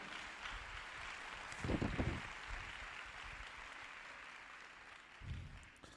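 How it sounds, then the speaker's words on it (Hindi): Congregation applause during an Urdu sermon, a soft, steady spread of clapping with a few louder bursts standing out near the middle and end. "आइए यीशु मसीह के जोरदार तालियां।"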